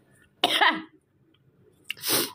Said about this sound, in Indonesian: Baca dia jadi batuk lagi